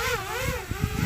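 Motors of a newly built racing drone on its maiden flight scream at full throttle, a loud wavering high whine that rises and falls over a rumbling low roar, with no talk.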